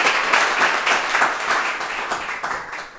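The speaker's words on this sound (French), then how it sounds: "On peut applaudir, Jay." Audience applause at a French culture and creativity event, a dense burst of many hands clapping nearby that carries steadily for about three seconds and then gradually thins out.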